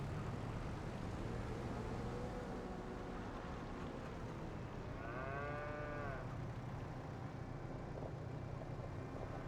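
Cattle mooing in Farming Simulator 25, with a drawn-out moo rising over a steady background of farm machinery hum and ambient noise.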